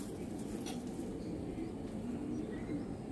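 A young golden-eyed pigeon kept by a home fancier gives soft, low cooing over a quiet hum of background noise, close by and with no one speaking.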